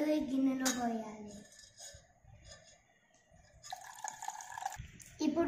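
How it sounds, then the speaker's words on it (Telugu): Leftover water poured into a bowl of cornflour mixture while making a summer sweet, a soft trickling fill near the mic, with speech-like voice sounds at the start and end. "ఈ మిగిలిన నీళ్ళు ఈ గిన్నెలో పోయాలి."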